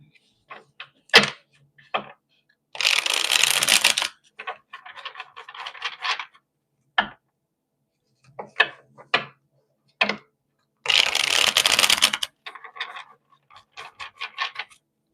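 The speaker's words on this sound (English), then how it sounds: "Let me just shuffle really quick." Tarot cards riffle and flutter in two loud bursts amid scattered soft taps, slides and clicks, close by with quiet gaps in between.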